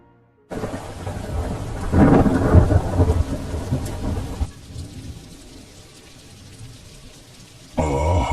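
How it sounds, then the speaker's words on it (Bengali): A heavy downpour sets in with a loud roll of thunder rumbling beneath it for a few seconds, then eases to a quieter steady patter before the rain swells strongly again at the end. "আবার সেই জাঁকিয়ে বৃষ্টি শুরু"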